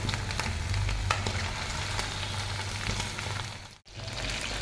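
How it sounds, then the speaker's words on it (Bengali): Chicken pieces deep-frying in hot oil for homestyle chilli chicken, a steady, dense crackling sizzle that carries on evenly, with a brief dip near the end. "চিলি চিকেনের মাংস ভাজা হচ্ছে।"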